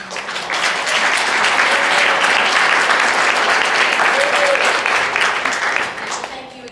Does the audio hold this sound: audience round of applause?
yes